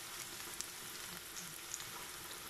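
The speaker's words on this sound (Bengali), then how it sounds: "এখন এটাকে আমি একটু ভেজে নেব।" Onion, garlic and chili fry quietly in a pan for a tuna and spinach dish, giving a faint, continuous crackling sizzle with tiny pops, heard close and without any talk.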